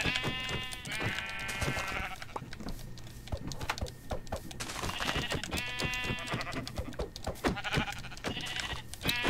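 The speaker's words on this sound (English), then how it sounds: "All these sheep around here." Sheep in the Minecraft video game bleat in several separate calls, each a wavering buzzy baa, set against steady game ambience and soft clicking footsteps, fairly close and with no talking.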